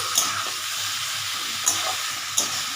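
A thor ghonto mixture of banana stem, Gobindobhog rice and potato being stirred in a pan: a soft, steady sizzling hiss broken by three sharp scrapes of the spoon, close up, with no talking.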